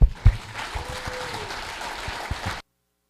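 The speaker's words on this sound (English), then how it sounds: "let's give a really loud applause for Landon." Short burst of audience applause greeting a presenter at a real estate event, a few loud bumps at the start, then an even patter of clapping that cuts off abruptly after about two and a half seconds.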